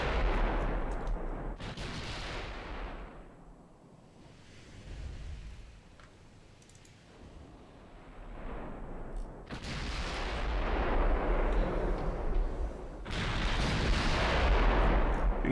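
Naval artillery salvos from Japanese warships in the Ultimate Admiral Dreadnought game, booming in several heavy bursts with long rumbling decay and ocean-like wash between them.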